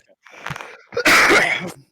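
A single sneeze, with a brief intake of breath followed by a loud, sharp burst up close.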